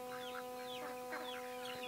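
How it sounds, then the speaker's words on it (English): A small chicken chick clucks softly under tall tomato plants in a garden, giving faint, scattered peeps and clucks at a distance. "there's a little chick under here getting bugs"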